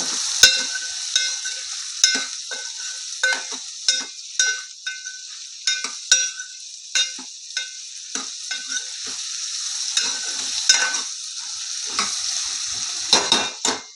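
Salted bottle gourd pieces cooking in a pan for a tangy stew, a soft steady sizzle broken by repeated spoon clinks and scrapes against the pan, close up with no voices.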